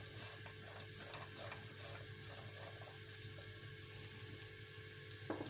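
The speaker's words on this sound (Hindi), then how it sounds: "ये हमारे मेवे फ्राई हो चुके" Dry fruits, nuts and coconut for sheer khurma fry in a pan with a steady close sizzle and occasional stirring scrapes, continuous and even throughout.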